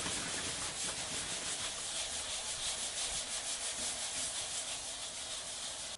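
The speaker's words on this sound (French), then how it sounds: "je vais poncer jusqu'à ce qu'on voit plus de différence" A car body panel is sanded by hand with abrasive paper, a steady close scratchy rubbing that stays even and continuous throughout with no voices.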